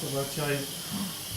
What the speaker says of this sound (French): c'est la cuisson sous pression qui s'arrête d'un coup